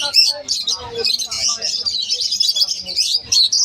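Caged birds kept for breeding at a breeder's shop, chirping and squawking in dense, overlapping bursts close by.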